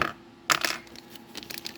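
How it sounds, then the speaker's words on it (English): Allen keys drop into a box while a belt sander is being unboxed, giving a short clatter of small metal pieces landing and settling, followed by a few lighter clinks. "I'll put these Allen keys in the box."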